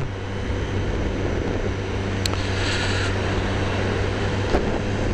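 A motorcycle cruises around the block on its first ride, a steady low engine drone with wind rush holding evenly throughout.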